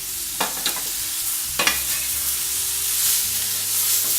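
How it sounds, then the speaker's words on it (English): Chopped tomatoes cook in a pan over a low-medium flame for a paneer curry, giving a steady broadband sizzle and hiss. A few sharp scraping or stirring clacks stand out near the start, and no voices are heard. "now I am going to wait till the tomatoes become soft. The stove is at low medium flame"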